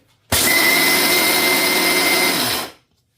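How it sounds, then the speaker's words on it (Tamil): Mixer grinder blitzing peanuts into a fine paste for date laddu, a loud steady whirring roar that starts abruptly, holds for about two seconds, then winds down, with no talk. "இப்போ இதை நான் மிக்சி ஜாரில் போட்டு நல்லா ஃபைன் பேஸ்ட்டாக அடிக்க போகிறேன்"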